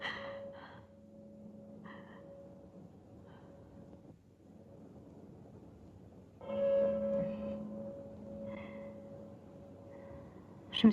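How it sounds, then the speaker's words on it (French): A bell ringing in a tower, in a scene from a 1964 French vampire film, sounds as several faint, distant tolls spaced a few seconds apart over a hushed background, with a louder swell partway through. "quelqu'un fait sonner la cloche."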